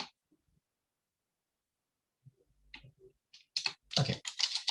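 Computer keyboard typing arrives after a near-silent stretch as a few sparse clicks, then a quick burst of crisp keystrokes close to the microphone, with no voices.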